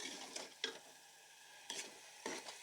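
A spoon stirs daal chana in a pan on the stove, giving a few soft scraping strokes in an uneven rhythm over a faint sizzle, close and fairly quiet with no talk.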